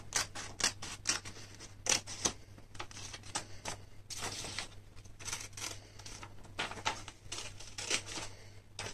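Scissors snipping through paper while a parcel is prepared for mailing, with a rapid series of crisp, close cuts, short pauses between runs and a faint steady hum underneath.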